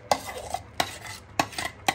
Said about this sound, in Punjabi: ਹੁਣ ਆਪਾਂ ਜਿਹੜੀ ਮੈਂਗੋ ਪੂਰੀ ਤਿਆਰ ਕੀਤੀ ਸੀ ਇਹ ਆਪਾਂ ਵਿੱਚ ਪਾ ਲਈ